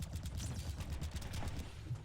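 Enemy gunfire from tanky blue units in the futuristic third-person bullet-hell shooter AGRYOS: Recovering Eden, a dense, rapid rattle of faint shots packed together throughout.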